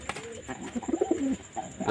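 A male pigeon coos in low, throaty, rolling bursts while being held and handled, close and fairly loud over faint background noise.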